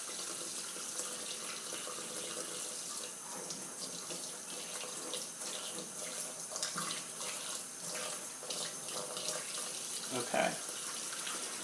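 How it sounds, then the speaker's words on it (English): Excess liquid from a batch of homemade shaving soap is poured off in a steady, splashing trickle, with a brief spoken word early on. "I just poured the excess liquid off"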